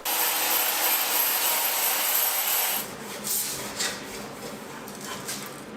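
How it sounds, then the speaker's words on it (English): Grinder working seam sealer and welds in a Toyota Supra engine bay, a loud continuous abrasive hiss that drops to softer, uneven scraping and rubbing partway through. "grind out a bit of the seam sealer stuff, grind down a bit of the welds"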